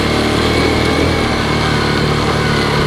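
The small engine of a Yamaha Champ golf cart, freshly fitted with a new carburetor and battery, runs loud and steady on a ride, a close continuous buzzing drone throughout.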